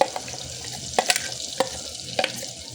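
Masala paste and tomatoes roasting in a pan, a low sizzle under repeated quick spatula stirs and scrapes, close and alone, a handful of sharp strokes over a few seconds.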